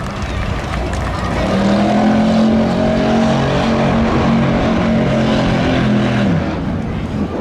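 Race cars at a spectator drag race roar past near and loud, engines droning steadily, with a rising then falling pitch sweep as a Camaro crosses the finish line, all under continuous announcer commentary.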